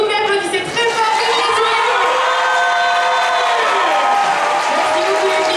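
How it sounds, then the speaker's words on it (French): Crowd at a cosplay roleplay contest applauds and cheers two costumed contestants, with loud sustained clapping layered with whoops and high shouted voices throughout. "S'il vous plaît, applaudissez très fort."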